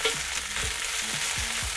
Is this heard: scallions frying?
yes